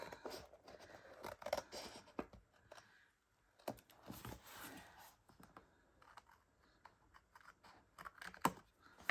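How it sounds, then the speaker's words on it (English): Scissors snipping off excess scrapbook paper, with close, crisp cuts and paper rustling in uneven bursts and short pauses between them, quiet overall. "I'm just gonna open that up and cut off the excess"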